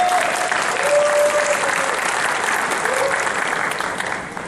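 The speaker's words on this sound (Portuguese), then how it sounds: "Então vamos dar uma salva de palmas para o pastor Joel." An audience at a Q&A event applauds Pastor Joel, a dense and loud burst of clapping that holds steady for several seconds before beginning to fade, with no speech over it.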